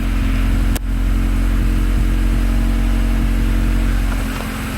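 A Honda Civic EK with a cheap aftermarket exhaust rumbles steadily at close range, a continuous deep engine drone with one brief sharp click early on and no talking.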